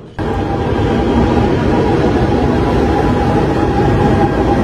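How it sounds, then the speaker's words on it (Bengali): A train at the Oslo airport station rumbles loudly and steadily after a sudden onset, a close, continuous heavy rail roar with faint rolling clatter and no talk. "দেখা যায় সকালবেলায় এয়ারপোর্টের সংলগ্ন ট্রেন স্টেশন কতটা ফাঁকা"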